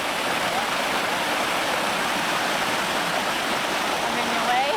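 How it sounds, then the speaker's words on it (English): Warm water rushes down a Costa Rican falls in a steady, dense roar, close and loud, unbroken from start to finish with no pauses. "It sounds so nice and it's so beautiful as the water comes rushing down."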